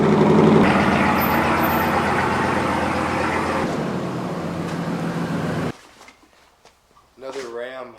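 A Ram pickup truck pulls in with a steady, loud engine rumble and idle that holds for about five and a half seconds, then cuts off abruptly, leaving brief quiet followed by a voice talking.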